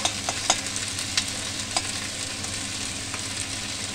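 Mustard-based chela fish curry, village style, stirred gently in a frying pan: a steady close sizzle with soft scraping strokes and a few sharp clicks early on, with no voices.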